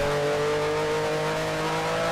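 A failing engine drones steadily in a race car in Grand Prix Legends at the 1965 South African Grand Prix, a loud, even, sustained tone at constant pitch with no talking.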